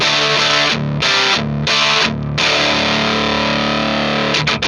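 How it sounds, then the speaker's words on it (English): Heavily distorted electric guitar through a DOD Carcosa fuzz pedal with a thick fuzz tone, sustained chords ringing loud and close, briefly cutting out between strums. "I think we're pushing distortion territory."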